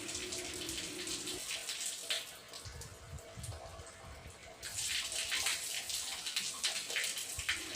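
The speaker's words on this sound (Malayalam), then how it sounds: "മൂന്ന് പ്രാവശ്യമായി നമ്മൾ മുഖം കഴുകുന്നു" Water splashing and trickling as a face is washed three times during Islamic ablution (wudu), with bursts of splashing and running water at close range, no talk.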